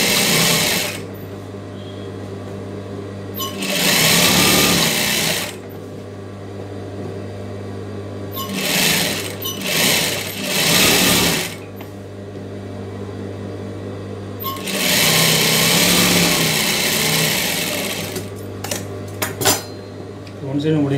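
Sewing machine stitching piping onto a churidar collar neckline, running in several loud sustained bursts with a steady motor hum between them and short pauses while the fabric is repositioned.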